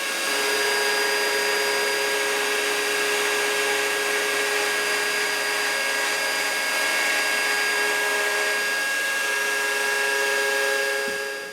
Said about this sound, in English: then use our router to take it down